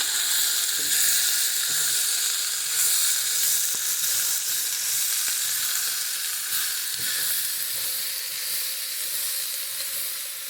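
Potatoes fry in a very hot cast iron skillet for a breakfast dish, giving a loud, steady sizzle and hiss throughout, with occasional soft scrapes and crackles and no talking.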